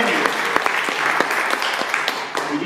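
A room full of people claps in sustained applause at a startup weekend event in Riga, with dense hand claps and scattered louder individual claps throughout.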